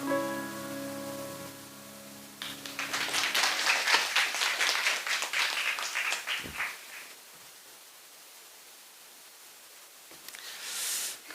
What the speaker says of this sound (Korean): 다시 한번 박수 한번 하겠습니다